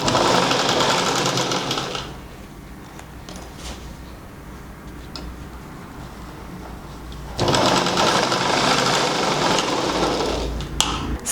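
A sewing machine stitches the edge of a baby frock, whirring close and loud at the start, pausing for quieter handling, then running again to the end.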